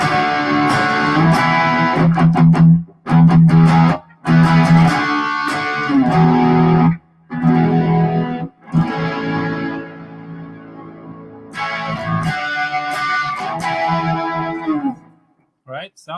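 An electric guitar plays chords and ringing notes drenched in reverb, with brief pauses between strummed phrases, loud and close.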